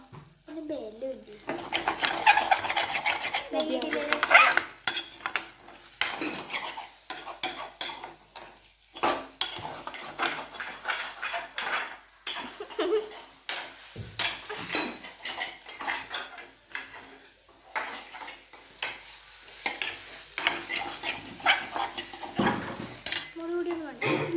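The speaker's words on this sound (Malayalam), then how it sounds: "നല്ലോണം ഇളക്കി കൊടുക്കാം ഇതിലേക്ക് കുരുമുളക് ഇട്ട് കൊടുത്തിട്ടുണ്ട്" Egg fried rice seasoned with pepper is stirred in a pan with a metal spoon, giving dense, rhythmic scraping and clinking alongside a light sizzle, with brief pauses between bursts of stirring.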